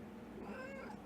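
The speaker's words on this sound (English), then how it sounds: "Your cat is demanding attention." A needy house cat meows for attention indoors, a single drawn-out, close and fairly soft meow with a rising, wavering tone, heard alone without talk.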